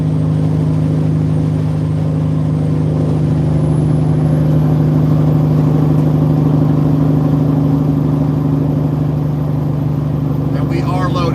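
A loaded Kenworth W900 truck cruises downhill at about 70 mph in 18th gear, giving a steady, loud low engine drone with road and wind noise throughout and a brief rattle near the end.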